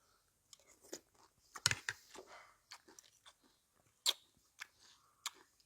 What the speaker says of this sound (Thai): กรอบๆอยู่ครับหอมเจียว